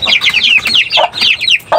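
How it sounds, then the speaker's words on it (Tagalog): Native chickens cluck in a quick, steady run of close, loud calls with brief pauses between bursts, and no talk over them. "nakalabas na yung ibang manok sa cage na mga native natin na mga maiilap."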